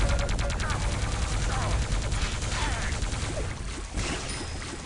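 Rapid plasma gun fire in the video game Quake Live, a dense stream of repeated shots during a close duel, loud and continuous with other game effects layered over it.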